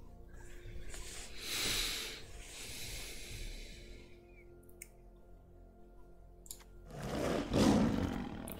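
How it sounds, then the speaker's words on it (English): A lion's deep roar plays as a card effect in MTG Arena, two loud breathy swells with a quieter stretch between. "Ooh, the lion."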